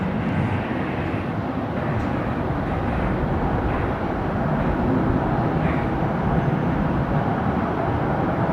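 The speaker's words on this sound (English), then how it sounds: "I think they're just touching down. The Velocity 737 here on runway 19 of right." A Virgin Australia Boeing 737 touching down on runway 19 at Brisbane Airport, heard as a broad, steady jet roar at some distance, low and rumbling without break.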